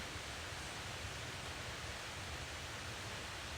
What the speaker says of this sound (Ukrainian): Оце так струмочок знімається тікає звір. І так утворюється такий водоспад.